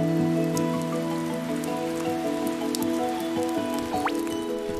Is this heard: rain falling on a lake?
yes